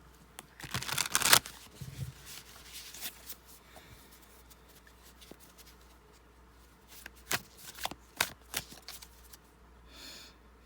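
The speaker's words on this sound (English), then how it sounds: "So give me a moment to shuffle here." Tarot cards are shuffled close by in quick riffling bursts, first a loud flurry, then scattered soft flicks and a second cluster of riffles.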